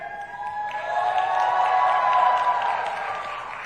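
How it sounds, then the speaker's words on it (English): Audience in a conference hall at an African food systems summit cheering together, a sustained crowd roar that swells in the middle and then eases, with faint clapping mixed in. "Cheering."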